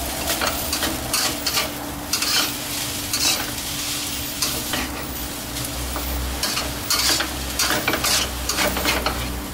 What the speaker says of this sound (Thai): เราจะผัดให้ผักเขาสลดก่อนนะครับ